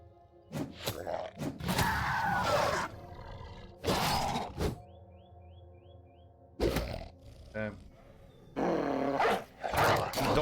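Dogs growling and snarling in the medieval mercenary video game Battle Brothers, several rough bursts over about ten seconds amid battle sounds, with a short chime in between.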